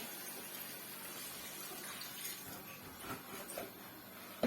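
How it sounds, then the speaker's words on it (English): Quiet, steady hiss of water pouring into a pot of Nigerian egusi soup with dry meat and fish, a soft continuous splash with faint clinks near the end. "Now we are about to add some water."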